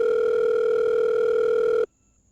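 A steady telephone tone plays from a phone as a call is placed, a continuous even hum that holds for almost two seconds and then cuts off abruptly into near silence.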